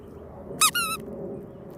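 A pet bird gives two quick high chirps in a row, brief and clear over a quiet indoor background.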